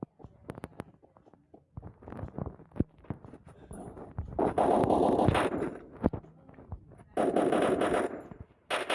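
Rapid automatic gunfire from an AUG rifle in the shooter game Free Fire, with two sustained loud bursts after scattered single shots and clicks, and no talk over it.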